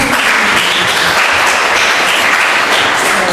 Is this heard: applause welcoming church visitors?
yes